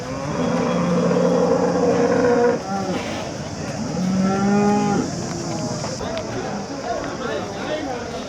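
Cows moo loudly and close by at a large cattle market in Chintamani, Karnataka, where high-yield dairy cows are sold. Long drawn-out calls repeat over steady crowd noise and chatter.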